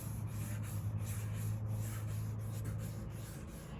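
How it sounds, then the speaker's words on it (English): Round sanding block rubbed by hand over a contoured body panel of a 1967 Chevrolet Impala, giving a steady, close, continuous scratchy rasp with slight stroke-to-stroke variation and no talk. "So when I'm sanding"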